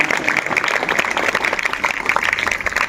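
Group scout clap from a row of school pupils, a brisk, close clatter of many hands that stays continuous throughout and has no voices over it.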